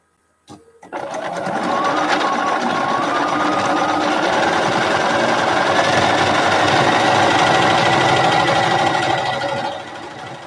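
A sewing machine runs steadily and loudly for nearly ten seconds, joining two top quilt pieces together, with no talking over its continuous whirring stitch.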